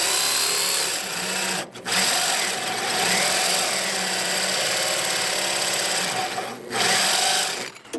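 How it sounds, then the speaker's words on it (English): A power drill runs during electrical upgrades on a ferrocement house, a loud, steady whirring grind that holds for several seconds, cuts out briefly twice, then restarts. "I'm gonna work off some of this mass as I drill"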